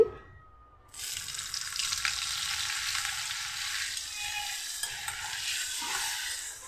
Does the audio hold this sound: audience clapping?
no